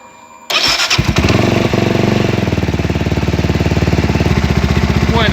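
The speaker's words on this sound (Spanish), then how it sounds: "Y vamos a dar a arranque" A Benelli TNT 25 250cc motorcycle starts up after a brief starter crank, then settles into a loud, close, rapidly pulsing idle that continues steadily to the end.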